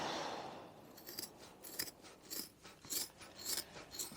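Scissors cut a piece off carpet for a Jaguar XJC, making a series of crisp, close snipping crunches at a steady rhythm of about two per second, with no talking.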